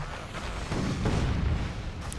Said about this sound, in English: The golden cannons of Egypt fired, but apparently didn't do an awful lot.